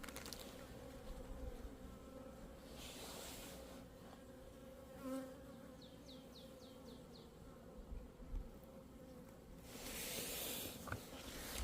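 Honeybees crowding a hive frame after being fed a pollen patty in late February: a dense, steady low drone of many wings throughout, with a few sharper nearby buzzes passing close, no voices.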